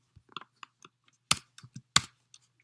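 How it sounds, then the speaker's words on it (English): Keys tapped on a computer keyboard while filling in a printable PDF form, a sparse, irregular run of light clicks with two sharper, louder strikes, close and alone. "you're just clicking on it and typing in the words that you need"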